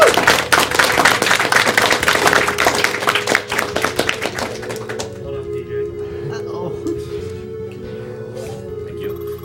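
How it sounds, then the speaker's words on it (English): A live crowd at a gaming speedrun marathon claps in a dense burst of applause for about five seconds, then it fades out while a voice talks over electronic game music. "So I think we should all give ourselves a round of applause for that."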